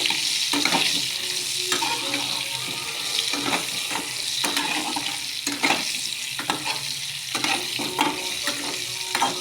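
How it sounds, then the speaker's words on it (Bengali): Steady oil sizzle with bursts of spluttering and scraping as pointed gourd pieces with salt and turmeric are stirred and turned in a hot pan, fairly close, no voices. "সামান্য নুন সামান্য হলুদ দিয়ে পটলগুলো খুব ভালো করে ভাজবো"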